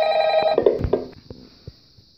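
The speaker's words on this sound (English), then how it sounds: "Okay, time to listen to the phone call." A telephone rings in an Elf on the Shelf horror game, giving one loud trilling bell ring that cuts off and is followed by a few faint clicks.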